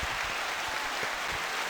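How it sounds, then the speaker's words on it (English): Canned applause from a soundboard button, a steady wash of clapping lasting under two seconds, moderately quiet and heard on its own without voices over it. "standing ovation"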